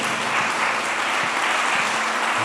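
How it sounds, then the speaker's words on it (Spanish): A church congregation gives steady, dense applause during a sermon, a continuous wash of many hands clapping together with no break. "Denle un aplauso al Señor."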